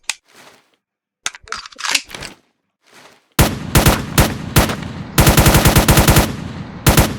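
A custom gun built with the ACS engine in Roblox Studio fires: a few scattered clicks and short shots, then loud rapid automatic bursts of crisp, evenly spaced cracks, close and alone.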